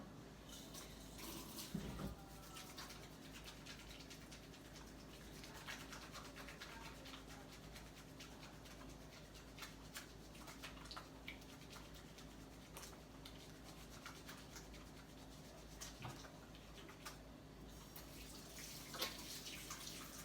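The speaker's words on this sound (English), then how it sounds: "I'm just going to wash my hands" Hands are washed under a running kitchen tap while baking cinnamon rolls, a steady soft hiss of water with faint splashes and clinks, low and close, without talk.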